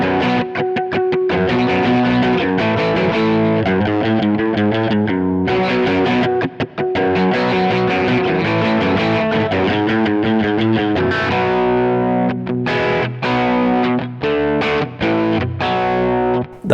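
A Fender Musicmaster electric guitar tuned up a full tone plays a riff, loud and heavily distorted, with driving chugged chords and brief gaps between phrases, no voice over it.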